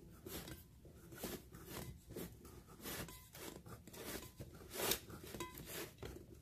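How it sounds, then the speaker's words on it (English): A craft blade cutting around the center hole of a toy wheel during customizing, giving faint, close scratchy scraping and crunching strokes in an uneven rhythm with no talking. "you take your blade and just kind of cut around it"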